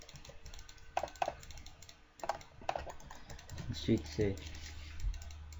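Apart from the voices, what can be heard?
rapid computer mouse clicking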